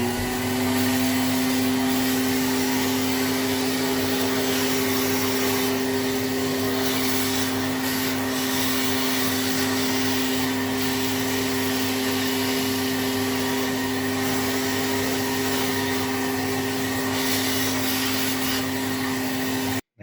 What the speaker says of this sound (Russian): Для того, чтобы избавиться от пыли, я буду использовать старый советский пылесос.